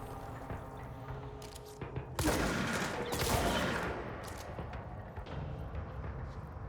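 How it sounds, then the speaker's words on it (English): Gunfire in the video game Control: dense, overlapping bursts of shooting swell in the middle of the stretch over a steady background of game ambience, then thin out again. "Who's still shooting?"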